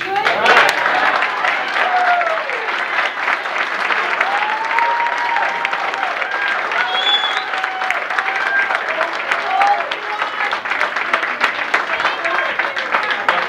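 Town board meeting audience in Monroe cheers and applauds, a loud, sustained wash of clapping with whoops and shouts running throughout and no break.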